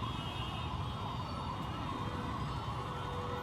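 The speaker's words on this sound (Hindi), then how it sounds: "और मुझे लगता है पीछे वो देखिए एम्बुलेंस फंसी हुई है" A distant ambulance siren, stuck in a traffic jam at Khajoori Chowk in northeast Delhi, wails faintly through a constant wash of traffic noise and engine rumble, with no voices.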